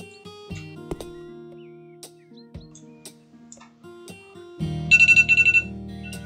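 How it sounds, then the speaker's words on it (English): Electronic alarm in the renovation game House Flipper, a steady repeating beeping tone that pulses loudly near the end, layered over background game music and clatter. "Oh, we got an alarm going off."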